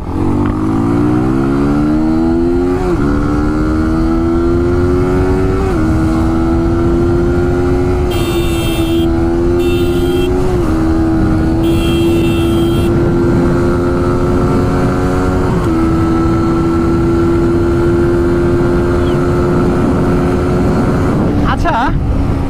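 A Suzuki motorcycle engine holds a loud, close, sustained rev, its pitch climbing in steps as it runs through gears for over twenty seconds, with voices talking over it at times.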